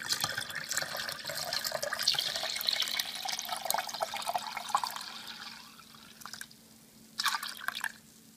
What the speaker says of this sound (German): Und das füllen wir jetzt mit Wasser auf.